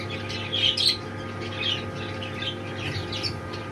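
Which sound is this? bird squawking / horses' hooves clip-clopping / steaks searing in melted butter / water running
bird squawking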